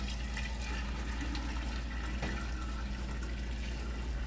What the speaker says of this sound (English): And now we're just going to pour this in here.